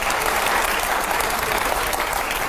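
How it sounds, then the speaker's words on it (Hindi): Loud, dense audience applause rolls on without a break, a steady wash of many hands clapping together with only a faint murmur of the crowd beneath. "जोरदार तालियां हो जाए जरा"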